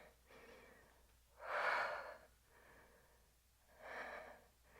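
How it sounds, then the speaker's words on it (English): Slow, deep breaths during a wall Pilates lower-leg workout, two fuller exhales standing out over quieter breathing, close and unaccompanied by talk. "Deep breathing."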